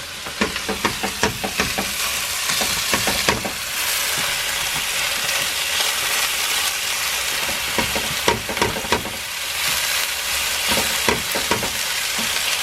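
Steak fries in a very hot pan with a loud, continuous sizzle and hiss, dense with crackling pops and occasional scraping, close up throughout.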